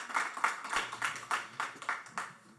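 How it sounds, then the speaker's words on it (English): A small group claps for Emmanuel at a career day event, a short, light patter of about nine spaced claps, fairly quiet and alone. "Can we all clap for Emmanuel, please?"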